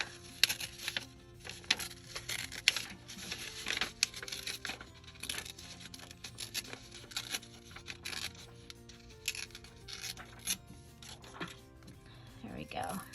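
Paper guest check ticket ripped by hand during a craft project, giving a series of close, scratchy tearing bursts over quiet room tone.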